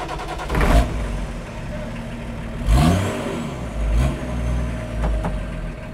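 Rat rod with a BMW turbo diesel engine revving loudly as it pulls away, with swelling bursts of engine noise and a mechanical whine.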